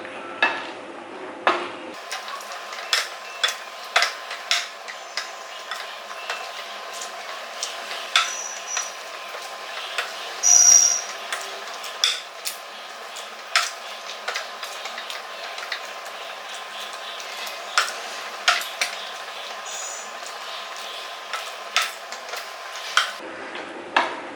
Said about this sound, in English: Just go and kind of mash it up a little bit.